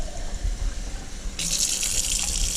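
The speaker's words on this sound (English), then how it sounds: "And I'm gonna put a little bit more water." Water pours into a cooking pot of venison sauce picante, a steady gushing stream that starts partway through and runs on to the end, close and fairly loud over a low kitchen background.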